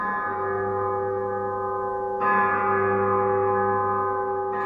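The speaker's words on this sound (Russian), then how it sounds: "Сегодня во всех церквях, больших и малых, звучит колокольный звон." Church bells ring with a sustained, layered metallic hum, and a fresh strike swells the tone about halfway through.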